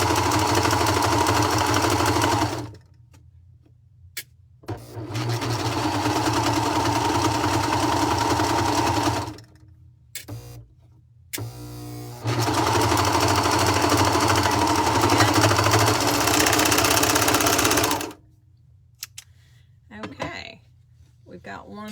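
A sewing machine runs in two long, steady bursts while stitching a gusset seam into a tank top with a minimal seam allowance, its motor humming loud and close with a short pause and brief starts between runs.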